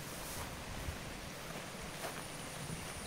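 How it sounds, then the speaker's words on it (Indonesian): Water rushing steadily below a rural path overgrown with brush, a broad continuous wash of flowing river noise with some wind, no voices. "Di bawah sih ada sungai gitu."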